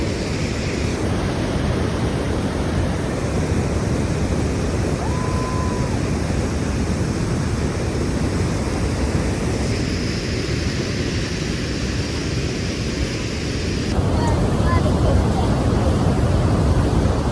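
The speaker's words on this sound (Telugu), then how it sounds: "అలా వాటర్ అంతా పడతాయి" Water pours down at Niagara Falls beside the Cave of the Winds, a steady, loud, broadband roar that continues without a break.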